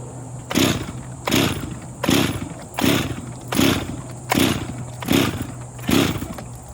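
A Pioneer P26 chainsaw fitted with a Husqvarna carburetor is pull-started over and over, giving seven regular rasping pull-cord bursts with a coughing engine that never catches, close and loud with no talk.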